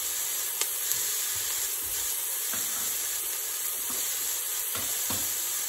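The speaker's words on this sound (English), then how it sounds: "Give that a little stir so that the celery gets coated with the oil as well" Celery and other vegetables frying in oil in a pot for lentil soup, a constant soft sizzle and hiss broken by several light scraping stirs, with no voices.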